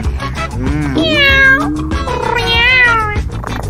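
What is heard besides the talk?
cat meowing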